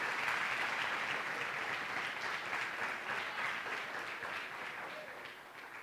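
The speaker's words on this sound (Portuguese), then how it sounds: "quer dar a você uma forte e calorosa salva de palmas" A church congregation breaks into warm, sustained applause, a dense wash of clapping from many hands that slowly tapers off.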